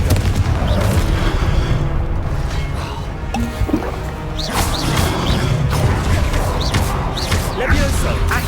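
Confringo fire spell blasts in Hogwarts Legacy, a dense, loud wash of game combat with repeated booms, crashes and crackling impacts layered over continuous background music and effects, with a voiced incantation shouted amid the action.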